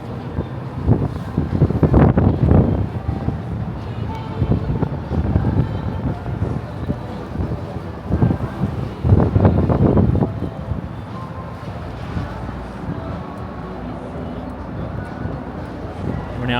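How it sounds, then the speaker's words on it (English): Cold, cutting wind buffets the microphone outdoors in Manhattan in winter, a constant low rumble with stronger gusts, while a person talks over it. "Wind is really, really cutting."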